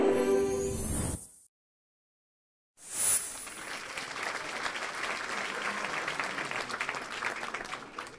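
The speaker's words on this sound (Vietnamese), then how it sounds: "Vỗ tay thật lớn nào." Studio audience applause at a Vietnamese family game show, beginning after a brief burst of music and a second of silence, then holding as a steady, moderately loud wash of clapping to the end.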